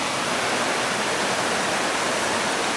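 Spring water flowing into a rocky wooded glen, a steady broadband rushing like a small waterfall or stream, close and continuous with no pauses.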